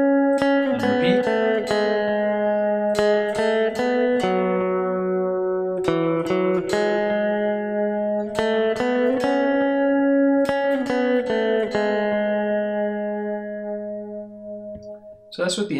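Electric lead guitar repeats a song intro with effects, crisp plucked notes in clusters over a ringing sustained tone, loud and near, tapering off toward the end.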